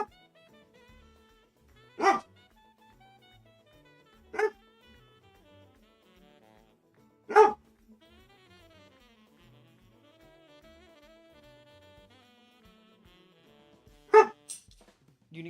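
A pet dog barks to be let outside, four sharp separate barks spaced a few seconds apart over a quiet room, with faint whimpering between them.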